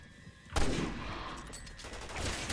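Gunfire in the video game Resident Evil 6: a loud burst opens after a short lull and rolls into a continuous dense fusillade of rapid shots and impacts that runs to the end, with no talk over it.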